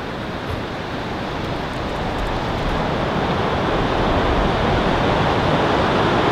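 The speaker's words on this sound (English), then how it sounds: "the wind is absolutely roaring" Strong winter wind roars steadily around an Airstream RV near Mount Washington, a dense broadband rush that swells slightly louder over several seconds with no talking.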